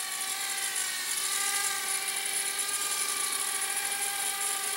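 A Blade Inductrix Switch Air RC aircraft flies with its small rotors giving a steady high-pitched whine and buzz, constant and fairly close, with no talking.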